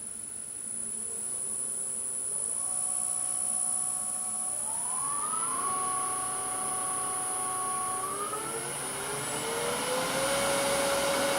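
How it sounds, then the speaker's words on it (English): A Jet 1642 wood lathe's motor fan runs steadily with a constant whir, joined by thin rising tones that step upward in pitch as spindle speed increases; no talking. "we've got motor fan noise here"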